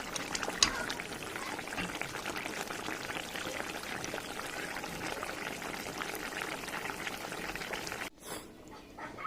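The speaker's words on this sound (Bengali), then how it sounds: "আর একটু ফুটিয়ে আমি নামিয়ে নেবো।" Fish curry with cauliflower and potato boiling in a pot gives off a steady, close bubbling hiss that runs unbroken for several seconds, then drops away abruptly near the end.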